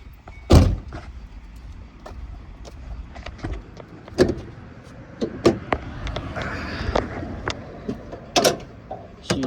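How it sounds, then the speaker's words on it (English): Hood of a 2006 Ford Mustang GT with a 5-speed being popped: a sharp latch clunk early on, then scattered clicks, taps and small mechanical knocks from up close, with no talking. "Let me pop the hood real quick."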